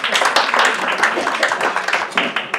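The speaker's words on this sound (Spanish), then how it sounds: "Pueden aplaudir" An audience applauds together at an evening panel discussion, a dense, steady wash of many hands clapping close by for a few seconds, with a hint of voices mixed in.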